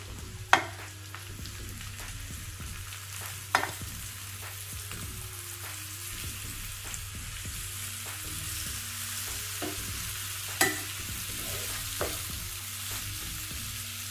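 Mushrooms sizzle softly in ginger garlic paste in a pan. A low frying hiss runs underneath, and a spatula stirs and scrapes in occasional sharp clacks, with a few louder knocks spread through the clip.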